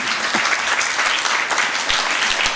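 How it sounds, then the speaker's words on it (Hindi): Audience applause at a Jain religious closing ceremony, dense sustained clapping from a large crowd filling the room, loud and steady throughout. "इतनी तालियां कल सुबह आप बजाकर"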